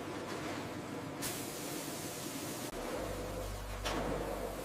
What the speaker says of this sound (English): High-pressure sprays cascade over pineapple fruits, rinsing away impurities.